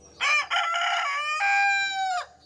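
A caged rooster crows close by, one loud, full cock-a-doodle-doo with a brief break before a long drawn-out final note, clear and alone.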